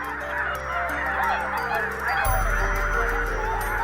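A flock of red-breasted geese honks in a dense, continuous chorus of overlapping calls, loud and close, with a deeper rush swelling in partway through.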